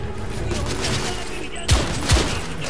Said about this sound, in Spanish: ¡Me están acribillando!